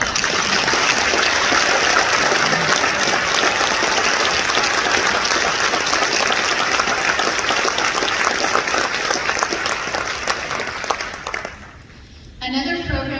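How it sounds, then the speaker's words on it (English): A conference audience in San Francisco applauds loudly and steadily for about eleven seconds, a dense wash of many hands clapping before it fades out and a voice starts speaking. "we could do a round of applause for Alex so loud that he could hear in Sacramento"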